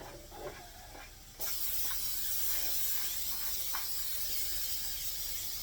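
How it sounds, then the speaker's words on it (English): A steady, loud spray of cooking spray onto a 9x13 baking pan bursts on suddenly and continues without a break, close up, after a short stretch of quieter background. "you're going to take your 9x13 pan and you're going to spray it"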